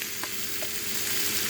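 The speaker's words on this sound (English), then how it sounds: "Oh, that sizzle." Meat browns for chili in a pan, giving a steady, close crackling sizzle with faint scraping from stirring, and no talk.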